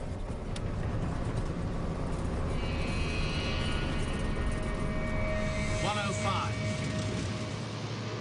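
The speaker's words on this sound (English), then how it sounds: "Both engines sound an even note, and we're going down the runway now for a takeoff." A steady, loud roar of airliner engines during the takeoff run fills the cabin throughout, with a broad rumble and a faint higher whine rising partway through.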